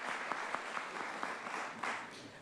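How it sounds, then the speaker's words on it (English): A County of San Diego Board of Supervisors audience gives brief, faint applause, scattered claps audible in a quiet meeting room. "Give them a round of applause."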